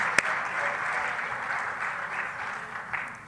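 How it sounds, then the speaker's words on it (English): Audience at a conference breaks into steady applause, a moderately loud wash of clapping that holds evenly for a few seconds, with a sharp knock near the start and a brief faint voice underneath. "they deserve another big round of applause"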